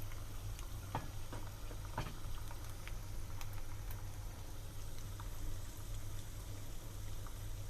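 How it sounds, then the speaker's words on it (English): Almonds frying in a pan as a garnish for a meat dish, a steady faint sizzle with scattered small pops and crackles and a low hum beneath, no talking. "here we have some almonds frying just for some decoration"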